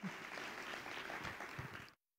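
Church congregation applauding during a Spanish-language worship service, a dense steady wash of clapping for about two seconds that cuts off abruptly.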